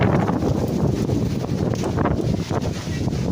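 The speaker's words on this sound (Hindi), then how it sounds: "अभी भी तूफान बना हुआ है तेज हवाओं के साथ में।" Strong storm winds during a heavy Indian thunderstorm in Bodh Gaya buffet the microphone with a loud, continuous roar and rumble that persists throughout, with no voices present.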